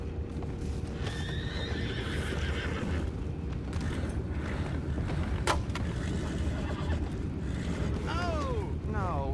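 Horses in the Red Dead Redemption 2 video game whinny and neigh over steady clip-clop hooves, with a rising whinny near the end, amid game ambience.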